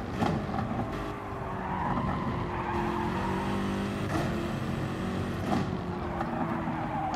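A car in Gran Turismo Sport brakes hard, tires squealing and skidding over a steady race engine, with a few sharp clunks as it slows.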